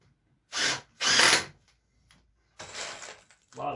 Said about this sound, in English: A lot of fun watching somebody drive screws.